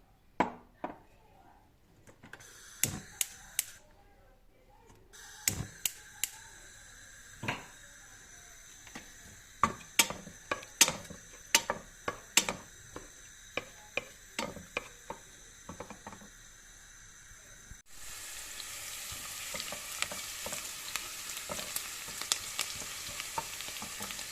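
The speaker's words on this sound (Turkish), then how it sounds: "Bir orta boy kuru soğanı doğrayarak yarım çay bardağı sıvı yağda kavuralım." Chopped onion sautés in vegetable oil, a soft sizzle broken by repeated sharp spoon or spatula clicks against the pot, growing into a fuller, louder frying hiss near the end.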